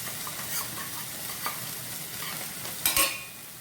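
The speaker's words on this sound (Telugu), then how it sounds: "బాగా మిక్స్ చేసేద్దాం" Ginger garlic paste and tomatoes are stirred in a hot pan, producing a steady sizzle with scraping strokes and a louder clatter of the utensil near the end.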